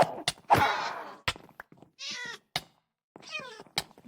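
A cat in the Minecraft video game meows twice, short clear mews heard close and alone, with a few hard knocks and thumps around them.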